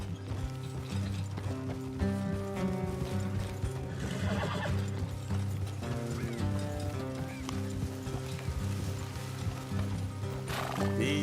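Horses in Red Dead Redemption 2 clip-clop steadily along an off-road trail, with a whinny and some mechanical ratcheting sounds over a constant musical score, and no talk.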